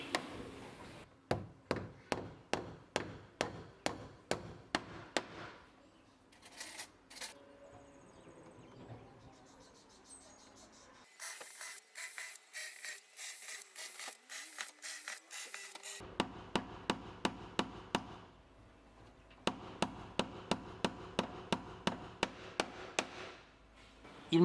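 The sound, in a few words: drilling and nailing hard Kumaru wood cladding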